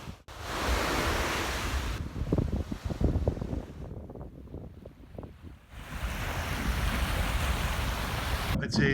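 Surf washes onto an empty beach in Lombok, Indonesia, with waves rushing and breaking in loud, broad swells, easing into a quieter lapping stretch before surging again, with wind buffeting the microphone.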